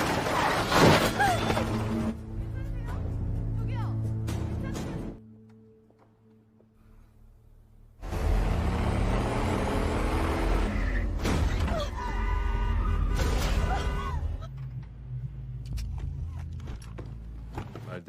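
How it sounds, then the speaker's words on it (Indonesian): A truck deliberately rams a car on the road in a Korean film scene: loud crashing impact with scraping metal and shattering, a brief near-silent gap, then more heavy crunching debris and mechanical noise. "mobil mereka dengan sengaja ditabrak oleh sebuah truk"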